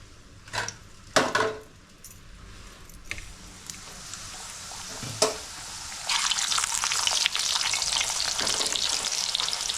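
A coconut puri is pressed and turned in a pan with a few sharp clatters and thumps, then a fresh puri slides into hot oil and a loud, steady frying hiss swells and holds.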